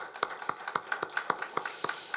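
A church congregation claps in a steady, even rhythm of roughly four beats per second, sharp, moderately close and without voices over it.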